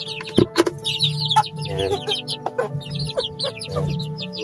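Native chickens cluck and chatter close by in short repeated calls, with a brief spoken word near the start.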